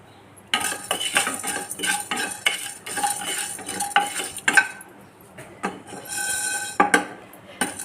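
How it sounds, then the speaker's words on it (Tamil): Black peppercorns dry roast in a pan, rattling and scraping in repeated bursts as a spoon stirs them, with sharp metallic clinks and short pauses between strokes. "1 ஸ்பூன் மிளகு, இதை நல்லா வறுத்துக்கிடுவோம்."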